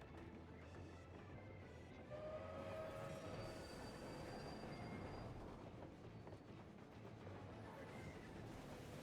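A train in the video game Final Fantasy XIV rumbles steadily along with squealing wheels and rattling carriages, continuous and fairly loud throughout.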